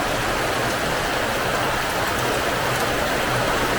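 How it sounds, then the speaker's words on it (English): Steady rain falling in Jamaica, a dense close hiss of drops that stays constant throughout. "Rain is falling."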